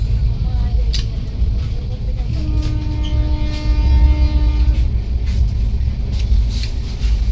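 The Rupasi Bangla Express pulls out of Chandrakona Road station: a deep, continuous rumble runs under a faint rising motor whine as the train gathers speed, with voices murmuring nearby.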